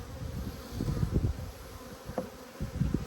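Honey bees swarm around an opened apiary hive as a full frame is moved, making a close, continuous buzz that swells and dips in uneven pulses, with no voices.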